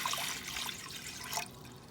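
Four cups of water run steadily into a pot for lasagna noodles, a close, fairly quiet splashing flow that stops abruptly near the end.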